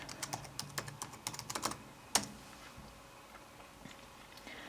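Quick, light keystrokes on a computer keyboard while an email and password are typed in, followed by one sharper key click and then near silence.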